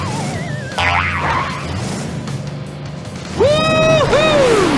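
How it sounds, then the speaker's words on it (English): Blaze the monster truck, a video game character, pops a wheelie to cartoonish boing and sliding-pitch effects over a loud engine-like rumble, with a bright springy swoop near the end. "Tap on me to see me do a wheelie!"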